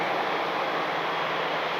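An Alaska Airlines jet at Cleveland Hopkins airport at night gives off a steady, loud broadband engine roar that holds evenly without a break, with no voices over it.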